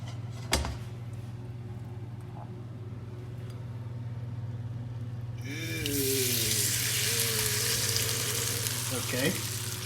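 Shrimp dropped into vegetable oil in a hot pan burst into a loud, steady sizzle about halfway through, following a quieter stretch of low kitchen hum with a faint clink near the start.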